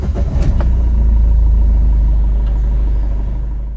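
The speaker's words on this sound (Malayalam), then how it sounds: "ഞാൻ വാഹനം വീണ്ടും ഓഫ് ചെയ്തിട്ട് ഒന്നുകൂടെ സ്റ്റാർട്ട് ചെയ്യാൻ പോവുകയാണ്" A car with a blinking check engine light starts up: a brief cranking burst gives way to a loud, steady low engine rumble that settles into idle and fades slightly, with no talking.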